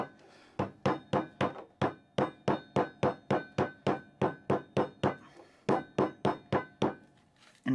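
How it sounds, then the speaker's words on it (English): A mallet strikes a rag down into a can to form a tool oiler pad, about twenty sharp, loud thwacks in a steady rhythm with a short pause partway through. "And you give it a couple of swift whacks this way."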